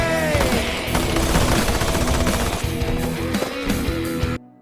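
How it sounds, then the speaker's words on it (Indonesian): Sustained machine-gun fire in a violent film shootout, a dense rapid burst of shots with loud rattling bursts and a thick mix underneath, cutting off abruptly at the end. "Suruli langsung memberondong peluru ke arah anak buah Peter hingga tewas."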